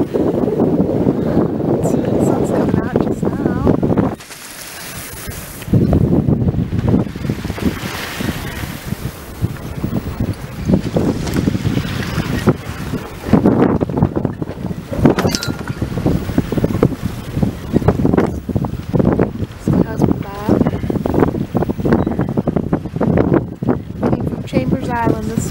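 A sailboat moving at about 4.5 knots on Green Bay, with strong wind buffeting the microphone, water rushing and lapping along the hull, and people talking throughout.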